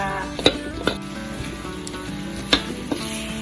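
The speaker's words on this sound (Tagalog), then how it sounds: "Nilipat natin dito sa malaki para makapaggisa tayo na maayos" Chicken curry with turmeric powder and coriander being sautéed in a large wok-style pan, giving a continuous close sizzle and a few sharp clanks of the spatula against the metal.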